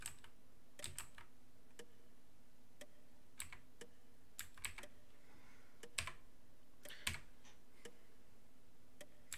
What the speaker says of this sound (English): I was just checking whether you can actually hear me pressing the keys, and you can. So I bet you guys are hearing click clack every now and again.